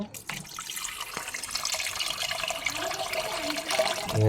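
Tap water running over hilsa fish being washed in a sink, a close splashing stream with small drips and clatter that swells toward the end.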